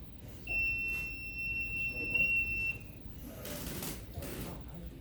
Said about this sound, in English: When something comes in front of it, it should start beeping